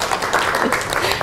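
Brief burst of audience applause at a robotics seminar, dense and continuous clapping from a room of listeners, fairly loud and close with no clear speech on top.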